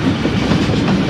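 Thal Express passenger train rolling along the rails, a steady close rumble with rapid wheel clatter, loud and continuous with no voices.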